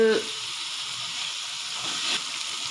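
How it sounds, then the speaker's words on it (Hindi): Masala spices sizzle in a pan with a steady, close hissing fry, continuous and even throughout with a faint scrape at the start. "इस मसाले को अच्छी तरह से हमने भून लेना है।"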